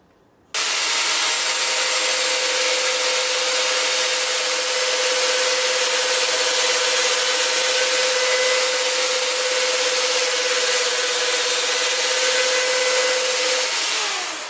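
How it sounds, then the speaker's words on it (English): A chainsaw runs steadily as it cuts into a wood slab while sides are fitted for furniture joinery, one loud, even, continuous drone held for about thirteen seconds, close by, and then it cuts off. "the quick adjust block will actually hold your bar from pushing back when the saw skips on the tip"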